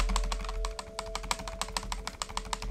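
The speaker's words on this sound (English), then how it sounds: "I'm sorry for my loud-ass keyboard." Rapid, loud clatter of a computer keyboard being typed on and mashed during a game session, a dense string of sharp close keystrokes over a faint steady hum.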